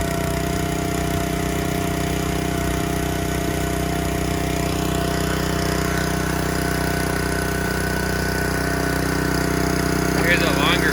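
A Brave 20 ton dual split log splitter's engine runs at a steady idle, a loud continuous droning hum with constant pitch throughout, nearby and alone.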